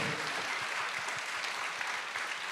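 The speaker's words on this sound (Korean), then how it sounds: "박수 한번 보내주십시오" An audience applauds students at a Korean commemorative cultural festival concert, a steady wash of clapping throughout the short stretch at moderate level with no voices.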